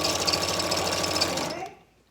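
Sewing machine stitching a zipper into a qaspeq, with a close, rapid mechanical chatter that runs steadily and then stops, while voices talk faintly underneath.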